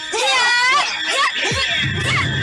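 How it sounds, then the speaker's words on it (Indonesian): Several men cry out and scream in pain as they are cut down in a sword fight in a dark forest, loud overlapping shrieks and wails with a dull thud near the end. "Dentingan dan teriakan-teriakan dari orang yang tersungkur mati mulai terdengar membelah kegelapan hutan"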